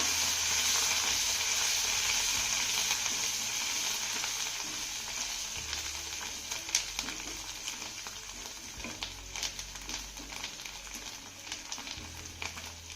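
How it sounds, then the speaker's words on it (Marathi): Asafoetida, sesame seeds and chopped coriander sizzle in hot oil as a tempering, a loud, steady frying hiss with occasional crackles and scraping from stirring. "फोडणी ना चांगली परतून घेऊया"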